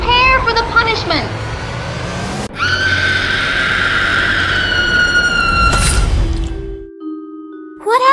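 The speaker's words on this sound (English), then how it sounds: "Who is that screaming?" High, wavering screams and squeals from animated Poppy Playtime characters fill most of the stretch, loud and sustained with shifting pitch, ending in a sudden cutoff and a brief tone.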